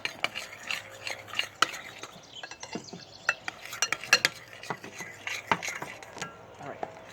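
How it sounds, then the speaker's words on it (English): Slime mixture with activator is stirred close up, with irregular sticky clicks, taps and scrapes of the utensil against the container. "you want to stir that for a little bit?"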